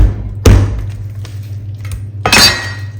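A knife forced through the hard bone of a whole raw chicken gives two sharp cracking impacts about two seconds apart, the second louder and longer, with quiet handling noise between.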